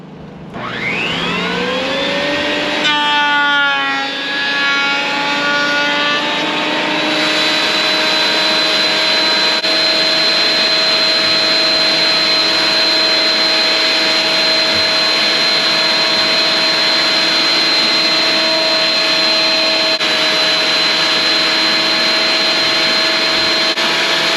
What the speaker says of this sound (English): So we started planing it and we found 2 nails that were hidden.